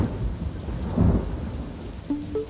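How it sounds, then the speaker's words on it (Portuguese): Heavy rain pours down steadily while thunder rumbles, with a louder low crack near the middle of the storm, then the downpour continues alone. "uma chuva começou a cair violentamente com trovões que sacudiam o céu"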